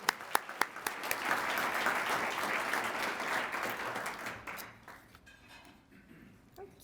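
Applause from a lunch audience at a chamber of commerce luncheon, opening with a few distinct individual claps that swell into a dense, sustained ovation, then thin out toward the end.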